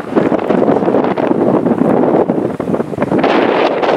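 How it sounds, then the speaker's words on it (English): Strong wind blusters across a shipping container roof and buffets the microphone in loud, uneven gusts that roar continuously with no voices. "probably can't hear anything but wind"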